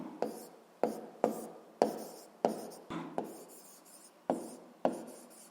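Handwriting during a physics lesson, about a dozen scratchy pen strokes in an uneven rhythm, close and distinct against a quiet background.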